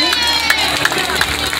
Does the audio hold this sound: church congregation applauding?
yes